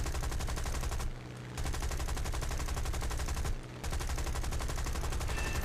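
Rapid, continuous machine gun fire from aircraft guns in the War Thunder game rattles on at full loudness, broken by two brief pauses between long bursts.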